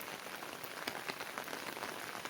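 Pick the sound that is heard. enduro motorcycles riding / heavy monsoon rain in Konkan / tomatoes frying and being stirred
heavy monsoon rain in Konkan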